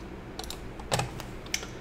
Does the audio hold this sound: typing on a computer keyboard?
yes